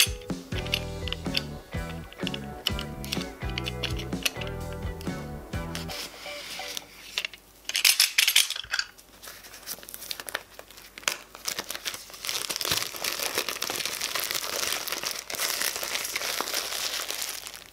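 Redmi 8A Pro phone box being unboxed, with plastic packaging crinkling and tearing in a busy close-up run of rustles. Tapping handling noises come first, then a sharp rip, then steady crackling wrap near the mic.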